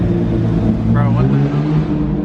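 A straight-piped, tuned McLaren 600LT and other loud cars rev and rumble close by in a steady, dense engine roar, with voices talking over it.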